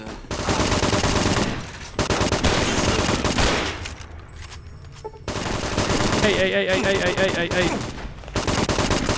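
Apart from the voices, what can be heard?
gunfire from a video game, Fallout New Vegas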